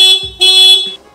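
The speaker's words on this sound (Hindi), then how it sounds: "मैं यहाँ से हॉर्न का बटन प्रेस करूंगा" A Honda Activa scooter horn beeps loudly twice in short bursts, a bright buzzing tone with a brief gap between, followed by a fainter third start at the end.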